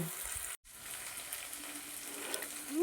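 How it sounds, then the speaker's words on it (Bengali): Ground spice paste frying in oil for a katla fish curry, a soft, faint, steady sizzle with one brief dropout near the start. "মশলাটা একটু ভাজা ভাজা হলে আমি এর মধ্যে টমেটো পিউরিটা দিয়ে দেব"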